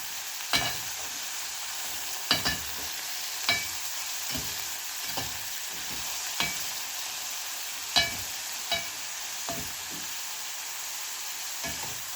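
Small omena fish deep frying in hot oil over a very hot fire, a steady close sizzle and crackle with sharp pops and spits breaking through at irregular intervals.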